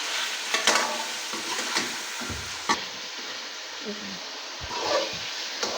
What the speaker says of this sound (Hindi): देखें अदरक लहसुन भी फ्राई हो गया